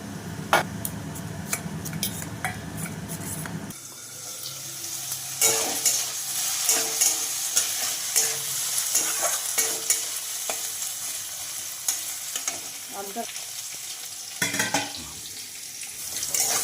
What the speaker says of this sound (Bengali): তো বন্ধুরা দেখো এখানে আমার আলুটা ভাজা হয়ে গেছে